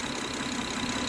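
A Honda Accord engine idles after a timing belt repair on a car that had a broken belt and bent valves, giving a steady low hum with a faint tonal whine. The sound runs evenly throughout with no talk.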